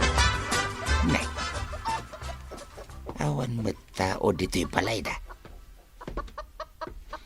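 Chickens cluck in a yard, their calls mixed in and around steady conversation among several people talking close by.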